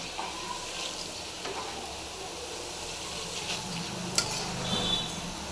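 Kara boondi frying in hot oil, a faint continuous sizzling hiss with a few brief clinks near the end.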